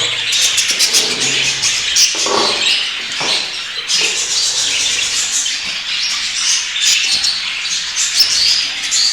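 Budgerigars in a breeding cage give off a continuous, busy stream of chirps and chatter, with dense overlapping tweets running the whole time and no voices.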